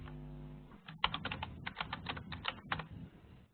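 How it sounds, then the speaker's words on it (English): Someone types on a computer keyboard close to the microphone, a rapid run of crisp key clicks in uneven bursts with short pauses between them. "Someone is really typing on the keyboard."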